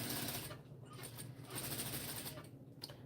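A sewing machine stitches slippery challis fabric in a rapid, even mechanical patter, fairly quiet and close, with brief dips as the stitching pauses.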